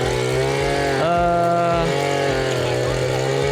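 A 43 cc FGB 438 brush cutter engine, coupled to a tilling attachment in a cornfield, runs with a loud, steady droning buzz that dips briefly in pitch and then settles back.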